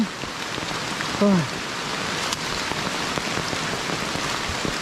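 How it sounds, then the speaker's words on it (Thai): Steady rain pours down near a waterfall, a dense hiss of drops hitting surfaces throughout, with a brief voice-like sound rising early on. "เดินฝ่า ฝน"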